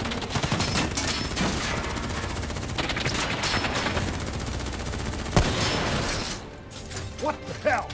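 Gunfire in the video game Call of Duty: Black Ops 3, dense rattling bursts of automatic fire mixed with mechanical clatter and explosions, loud and continuous before dropping off near the end, with faint voices underneath.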